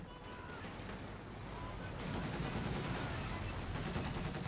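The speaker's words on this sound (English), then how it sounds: "There's huge anti-aircraft cannons. What a merciless weapon that truly is. Look at it blare." Heavy anti-aircraft cannons fire in a World War II strategy game, making a dense, continuous barrage of booming shots that grows stronger halfway through and fills the mix at high volume.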